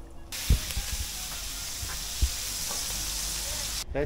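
Pork fat frying in a pot while making cracklings at a Croatian home pig-slaughter, a continuous hissing sizzle with a couple of brief knocks.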